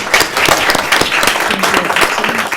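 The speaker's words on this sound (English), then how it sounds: "How about a round of applause for our students?" Audience applause for students at a school committee meeting, a brisk burst of many hands clapping close by in an indoor room, steady and moderately loud for a couple of seconds.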